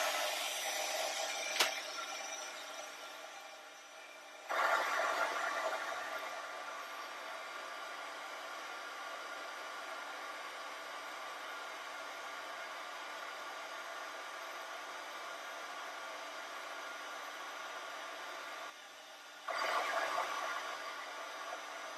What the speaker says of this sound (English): So let me emboss this. It's going to be a little loud for a second